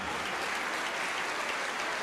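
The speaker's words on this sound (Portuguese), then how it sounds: "Vamos aplaudir, igreja, vamos aplaudir mais" A church congregation claps together in dense, continuous applause that stays even and steady from start to finish, filling the room without a break.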